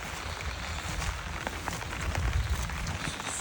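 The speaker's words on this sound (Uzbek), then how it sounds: "Bizda bahor, yomg'irlar" Spring rain falls in a steady, close patter of drops hitting surfaces, dense and even throughout, with no voices.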